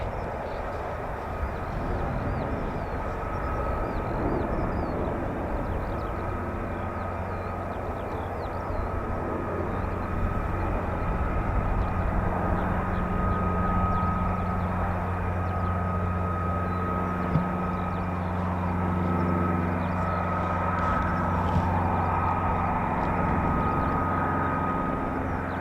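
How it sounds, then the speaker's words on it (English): An F-35B stealth fighter makes a vertical landing at RAF Marham, its steady, loud engine roar and hovering thrust sustained and unbroken throughout, with low rumbling tones underneath. "Hope you're enjoying these vertical landings, man"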